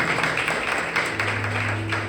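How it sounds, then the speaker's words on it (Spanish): Church congregation clapping along in steady rhythmic applause, moderately loud and sustained, with a low sustained musical tone underneath and no talk over it. "Vamos, dale fuerte, fuerte, fuerte ese aplauso al Señor."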